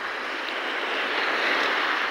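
Waves wash along a seashore in a continuous broad rushing roar, fairly loud and close, with a windy texture and no voices.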